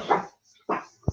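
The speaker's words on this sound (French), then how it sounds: "Oh là là, il y a le chien." A dog gives two short barks separated by a pause, then a brief low whimper or yip, close and fairly loud with no talk over it.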